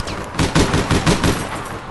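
Rapid, loud gunfire in the online shooter APB Reloaded: a close, sustained automatic burst of shots in quick rhythm, with no talking.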